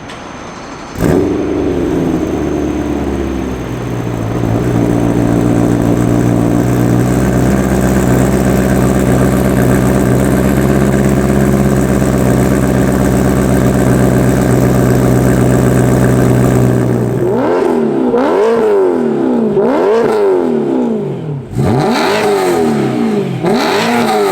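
A car exhaust idles with a low, steady rumble, then revs up repeatedly in sharp rising and falling bursts near the end.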